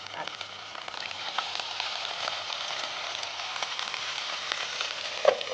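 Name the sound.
ginger frying in ghee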